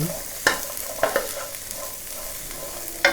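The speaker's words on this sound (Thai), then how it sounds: "เราเป็นวิธีกั่วเพื่อเชื่อมไม่ให้พริกฉุน" Chilies stir-fry in a pan with a little oil, giving a steady close sizzle broken by occasional scraping knocks of the spatula against the pan, with no talking.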